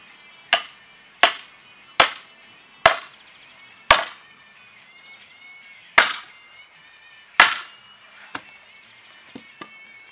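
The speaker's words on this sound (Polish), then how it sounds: "spróbujemy rozszczepić pienik przy pomocy klina" Sharp metallic blows of a sledgehammer on a splitting wedge ring out one by one at a steady pace, about seven heavy strikes followed by a few lighter taps, with a wooden stump creaking between as it splits.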